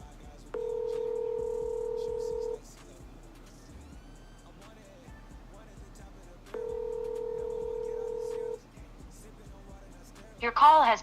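A phone call being placed during a live game stream: two long steady ringback tones, each about two seconds with a pause between, followed by a brief burst of electronic beeps at the end, over faint background hum.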